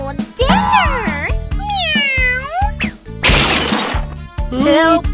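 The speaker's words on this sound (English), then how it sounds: "suddenly, out of nowhere, a cat appeared. Meow!" Several loud, close cat meows and drawn-out yowls follow one another, broken by a harsh hissing, crashing burst in the middle.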